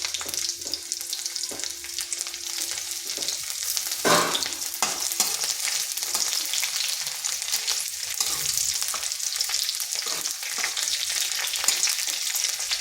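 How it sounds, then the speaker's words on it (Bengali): Chopped garlic fries in hot oil with whole cumin seeds in a pan, making a loud continuous sizzle with a few brief scraping knocks from stirring. "রসুনটা খুব বেশি ভাজবো নি।"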